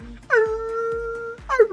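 A human voice imitates a whale song as a long, wavering, mournful wail that sounds like a whining dog, one sustained tone followed by a short rising cry, loud and close.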